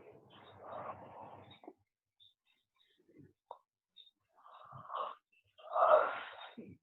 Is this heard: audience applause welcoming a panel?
no